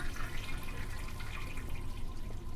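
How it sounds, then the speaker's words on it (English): A toilet flushes in the horror video game Nightmare of Decay: a steady, muffled rush of water that stays constant and fairly quiet throughout. "We should always flush the toilets"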